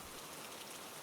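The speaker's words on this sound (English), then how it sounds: "The rain seems to hush further" Steady rain falls on a London night, a dense, even hiss of drops on hard surfaces with no other sounds.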